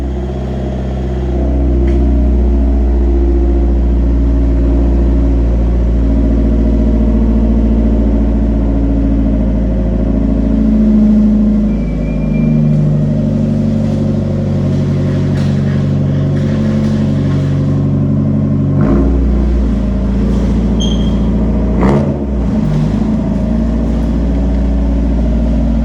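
A Mazda Miata idles and revs at low pitch as it is driven off a trailer, a steady rumble with a couple of sharp clunks near the end and no talk.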